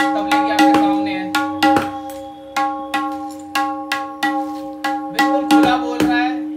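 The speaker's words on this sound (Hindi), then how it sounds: "अब आप सुनिए टोन तबले की आपके सामने है" A tabla is struck repeatedly to show the tone of its new head skin, producing a series of loud, close, ringing strokes with a clear pitched resonance, some in quick pairs, alone without talk.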